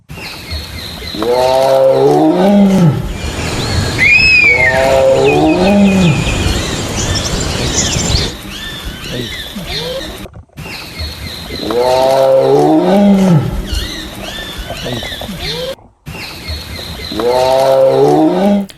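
An unseen predator roars in India's Kaziranga forest: deep, resounding calls come close and loud in repeated bouts, several grunting roars in each, separated by brief pauses.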